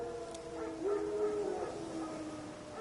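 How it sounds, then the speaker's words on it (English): Wild dogs in a video game let out a wavering howl with whining, yipping overtones, moderately loud over a dim ambient background, rising and falling across a few seconds. "Wild dogs."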